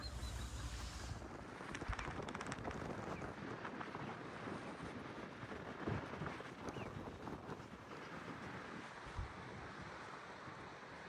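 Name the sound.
wind blowing at the beach, heard over the microphone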